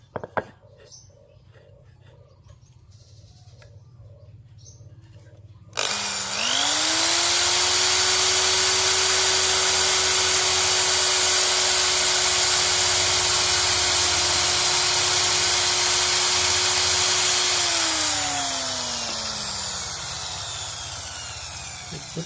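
A homemade farm machine for punching seedlings runs up with a sudden loud whine and drills with its blade for about twelve seconds, then spins down; quieter mechanical clatter and a voice come before it.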